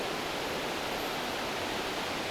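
River water at a public bathing area near Kuala Kubu Bharu flows in a constant, even rushing hiss, soft and steady with no voices or breaks.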